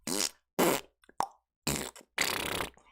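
A string of fart noise sound effects, five or six loud, close, raspy bursts of varying length separated by short silences.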